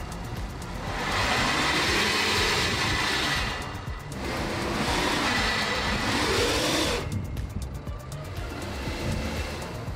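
A 2019 Suzuki Vitara's engine roars in long, loud surges while the SUV struggles over diagonal stands, with two sustained revving bursts separated by a brief dip and a quieter drone at the end.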